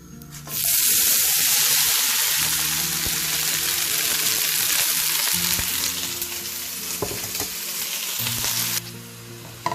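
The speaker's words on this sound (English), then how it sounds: "And now I'm going to put the onions in it." Frozen onions with black cumin seeds hit a hot pan, kicking up a loud, steady sizzle and crackle that starts after half a second and holds for about eight seconds before dying down.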